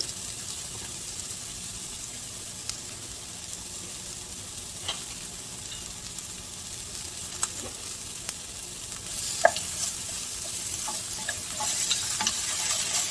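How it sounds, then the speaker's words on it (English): Onions sautéing in a pan give a steady, soft sizzle throughout, with occasional light clicks and scrapes of stirring, moderately close and unaccompanied by talk. "I'm going to saute this, let these onions get nice and happy."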